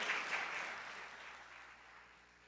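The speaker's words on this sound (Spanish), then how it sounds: "un aplauso para todos los que están saliendo" An audience gives faint, fading applause, a soft wash of clapping that thins out over a couple of seconds.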